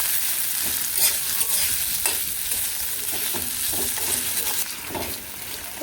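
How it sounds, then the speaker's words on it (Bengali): Onions and green chillies fry in a pan with a loud, constant sizzle, broken by repeated stirring scrapes and taps from a utensil close by. "পেঁয়াজটা একটু ভাজতে সময় লাগবো কারণ হালকা একটু লাল লাল করে নয়"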